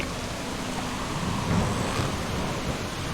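Steady rain with low rumbling thunder from the Syrinscape 'Caught in a Storm' effect, a continuous wash of downpour that swells slightly in the middle, with no voices.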